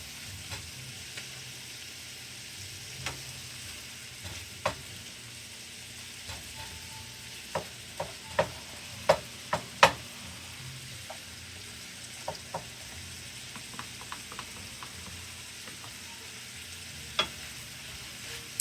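Chopped onions frying and browning in a pan for French onion chicken, with a steady low sizzle throughout and scattered sharp clicks and scrapes from stirring, loudest near the middle, and no talking.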